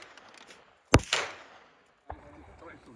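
Two sharp gunshots ring out at an outdoor family evening gathering, a loud crack followed by a brief echoing tail, then a second, softer report about a second later, with low chatter in the background.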